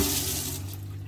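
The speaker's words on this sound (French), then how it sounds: "Allez hop, on vide toute l'eau, c'est parti." Water drains from a campervan tank in a steady, rushing hiss with a low, constant gurgling undertone, fairly loud and close, no talking.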